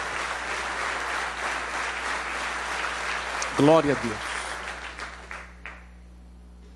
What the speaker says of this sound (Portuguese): dê uma poderosa salva de palmas para Jesus